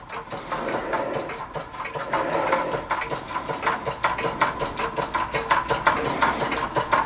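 A twin cylinder solenoid engine with ball race bearings runs steadily, producing a fast, even mechanical clicking and whirring rhythm, close up and fairly quiet, much like a sewing machine.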